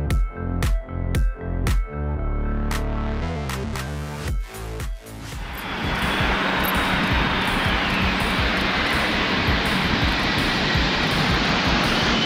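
At an air show, aircraft fly in formation trailing coloured smoke in the shape of a flag. A steady, loud engine roar swells and fills the scene after a few seconds of rhythmic music.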